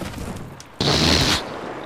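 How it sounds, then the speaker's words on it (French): In Battlefield 4 on Xbox 360, a sudden loud explosion bursts over background gunfire and battle noise, a harsh blast lasting about half a second before fading back to the din. "gros explosion"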